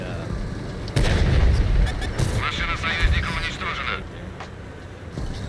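Tank cannon shots in World of Tanks console gameplay, with an IS-7 in the fight: a loud booming blast near the one-second mark, then rumbling and further reports, while a voice talks over the action.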